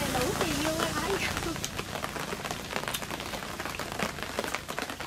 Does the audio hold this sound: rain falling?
yes